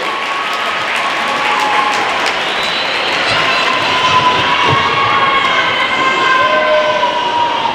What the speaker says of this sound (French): On peut applaudir bien sûr